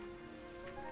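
Constant rain in the video game Sky: Children of the Light, a steady, dense hiss of falling drops with no pauses or voices.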